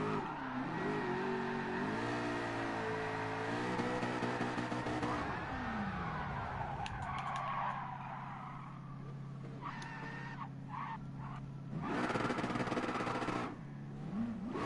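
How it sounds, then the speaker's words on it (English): A drifting car doing burnouts, its engine revving hard with long tire squeals and skids, loud and close, rising and falling across the whole stretch. "Burnouts for days."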